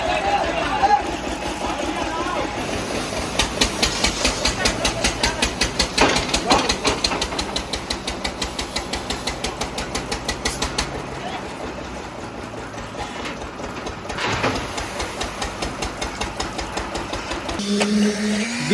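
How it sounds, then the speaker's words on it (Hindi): A concrete vibrator runs during the casting of a house's roof slab with Adani ACC Gold Prime concrete, giving a loud, buzzing mechanical drone with rapid rhythmic pulsing that rises and falls, while a voice talks over it. "बीम और कॉलम के बाद अब जो छत ढल रहा है ना, सब में वाइब्रेटर चल रहा है"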